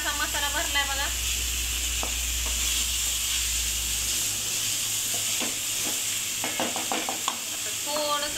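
Masala-stuffed food frying in a pan gives a steady close sizzle and hiss, with stirring scrapes and someone speaking intermittently over it.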